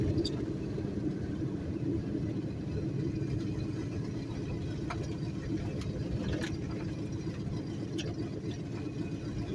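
Car engine rumbling steadily while driving on a wet road, a low continuous drone with faint hiss and occasional light ticks, heard from inside the cabin at moderate level.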